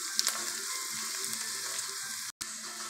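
Crushed garlic sautéing over low heat in a pan for homemade tomato sauce, a steady close sizzle that runs without a break for about three seconds except for one short dropout, and nobody speaks.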